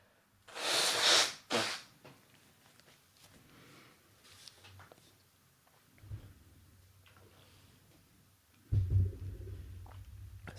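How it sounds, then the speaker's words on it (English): Someone blows their nose in a quiet room, a couple of sharp breathy bursts, followed by faint shuffling and low thumps. "Blow my nose while I'm here."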